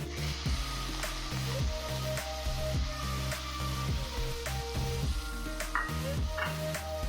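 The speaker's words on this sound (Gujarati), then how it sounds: "તેમાં ઝીણી એકદમ સમારેલી ડુંગળી છે ચોપર વાળે ચોપ કરેલી છે તે ઉમેરી દઈશું" Finely chopped onion, done in a chopper, sizzles in a pan for a sweet-sour tindora (ivy gourd) curry. A continuous close frying hiss sits over a steady low hum, with occasional light taps and no speech.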